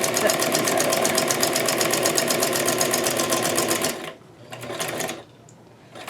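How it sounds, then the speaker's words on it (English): A sewing machine stitches rapidly in a steady, even rhythm for several seconds, then stops, leaving short quieter bursts of handling. "I got the sewing machine"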